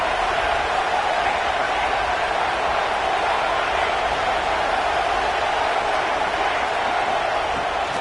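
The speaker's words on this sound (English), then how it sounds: "This crowd, full throat, spreading the eardrums and letting them know it's going to be a long day." A football stadium crowd roars steadily from start to end, a dense, loud, unbroken wash of cheering with no pauses.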